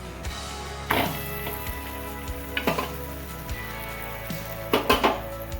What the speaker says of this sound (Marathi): आपल्या या झपाट्याची एक बाजू झाली आहे तर आपण याला परतून घेणार आहोत